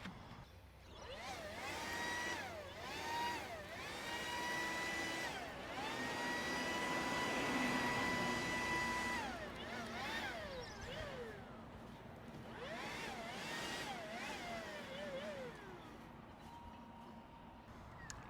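A Makita 40V Max XGT battery blower with a flattened round nozzle and a 5 Ah battery whines as it is repeatedly throttled up and back down, its rising and falling rushing roar fairly close.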